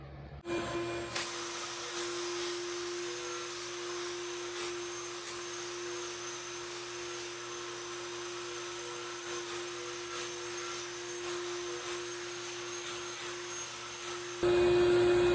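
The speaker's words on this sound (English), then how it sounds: "my diamond wheel on my angle grinder and kind of try to carve out what was in there" An angle grinder fitted with a diamond wheel carves out a crack in a concrete foundation, giving a loud, unbroken grinding whine with a steady hum that runs for about fourteen seconds before cutting off.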